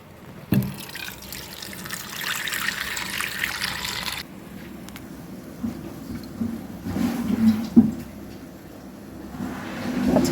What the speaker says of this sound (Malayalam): പുളി എടുത്തിട്ടുണ്ട് ഇത്ര. വെള്ളം ഒഴിക്കാം.